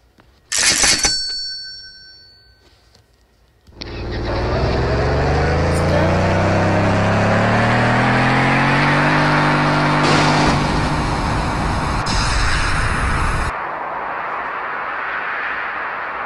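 A truck engine in a crash video game starts after a short sharp sound and quiet pause, then revs loudly with rising pitch for about ten seconds before settling to a lower steady drone.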